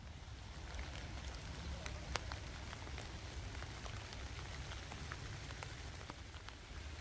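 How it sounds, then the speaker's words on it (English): Steady rain pattering on a surface in a churchyard, dense and even throughout, with scattered louder drops and no talking. "It's starting to rain now."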